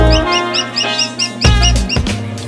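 Newly hatched chicks chirp in a busy, repeating high-pitched chorus inside a school classroom, loud and close, with a few thumps and clunks near the end and no clear talk.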